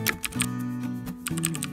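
Typing an email address and password on a computer keyboard while logging into a seller account, with a quick run of clicky keystrokes over steady tonal background music.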